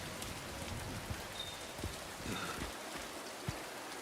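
Steady rainfall in the video game Silent Hill 2, an even hiss of drops with occasional louder patters and splashes, continuous and moderately close.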